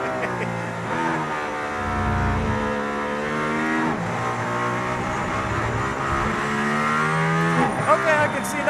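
Mercedes-AMG ONE hypercar driving on the road to the Barcelona circuit, its engine a loud, steady drone with rising and falling harmonic sweeps as it accelerates, heard from inside the car with some voices.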